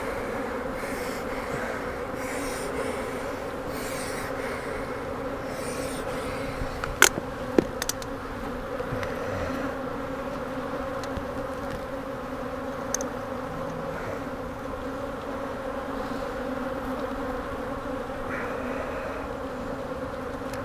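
Honey bees hum in a bee yard during hive work, a dense, continuous drone of many insects close by, with a few brief sharp clicks partway through and no talking.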